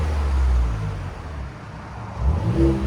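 Ford Raptor with a 3.5L twin-turbo V6 and stock muffler revving close by, a deep low rumble that swells, eases back through the middle, then climbs again near the end, with no talk over it.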